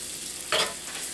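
Flour browning in frying oil for beef short ribs makes a soft, even sizzle, broken by one short, sharper burst of stirring or scraping partway through.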